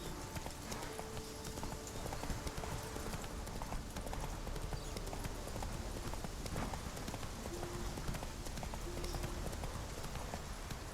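Horse hooves galloping in The Witcher 3, a steady rapid clip-clop rhythm over a dense background wash, carrying on throughout with no talk.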